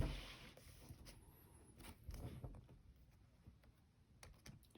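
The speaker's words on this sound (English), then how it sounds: "I'll type this in." Typing on a computer keyboard during a math lecture, soft scattered key clicks at close range, faint and irregular.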